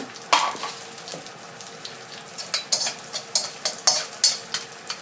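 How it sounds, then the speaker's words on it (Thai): Garlic and shallots stir-fry in hot oil in a pan for Thai-style fried Chinese cabbage with soy sauce, sizzling steadily up close while a spatula scrapes and clatters in repeated strokes. "ใส่น้ำมันใส่กระเทียมใส่หอมแดงลงไปผัดนะคะ"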